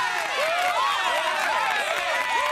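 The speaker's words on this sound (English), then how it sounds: "Jody's got to get a little applause, too." A studio audience at a Home Improvement taping claps and cheers loudly and continuously, with rising whoops and shouts mixed through the dense clapping.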